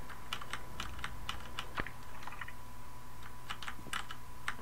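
Computer keyboard typing during an online game voice-chat session produces quick, irregular key clicks over a steady electrical hum, close and moderately loud with no talking.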